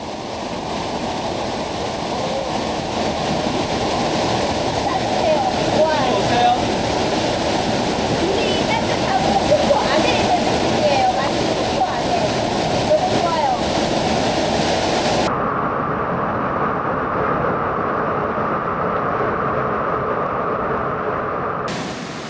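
A Costa Rican waterfall in volcanic country roars as a steady, dense rush of falling water from close by, with a voice speaking over part of it before the sound cuts to a duller, muffled wash.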